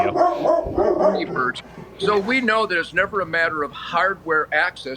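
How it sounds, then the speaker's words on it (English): A guard dog barks in a studio, its sharp barks mixed in among steady, close male speech throughout. "That's my dog. We have him as a guard dog in the"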